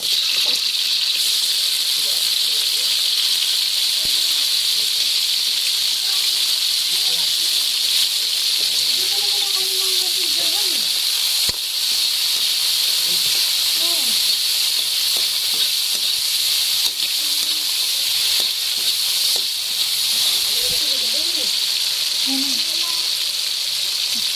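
Chopped tomatoes go into a hot pan with onion and garlic for ginisang monggo. A loud, steady hiss of sizzling carries on without a break, with faint voice sounds underneath.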